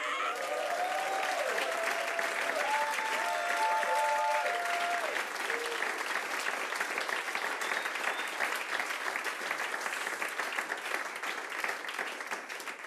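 Live concert audience at a show bursting into sustained, dense applause that fills the whole stretch, with some crowd noise and brief tonal sounds near the start.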